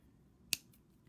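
Jewelry wire snipped with cutters while a necklace is being made: a single sharp, close click, alone against a quiet room.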